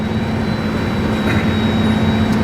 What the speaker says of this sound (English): I've got a valve in the exhaust, and you can hear it right now.